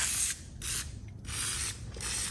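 WD-40 is sprayed onto a vintage Cummins Model 336 drill in three close hissing bursts, each lasting a fraction of a second, with faint mechanical rattling between them.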